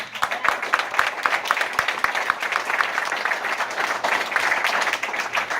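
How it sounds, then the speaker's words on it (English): Dense audience applause from a crowd at a wealth-building seminar, steady and loud throughout with many overlapping hand claps and a few whoops, no single voice standing out. "Give them a round of applause"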